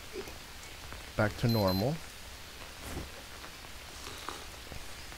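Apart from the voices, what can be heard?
rain falling in the video game Green Hell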